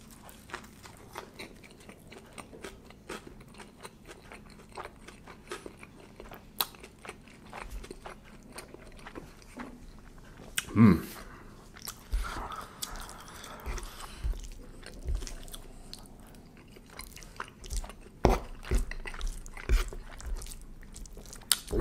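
Someone eats pulled pork sliders with coleslaw and pickles up close: a scattering of soft crunches, bites and wet chewing, with a louder crunch partway through and no talking.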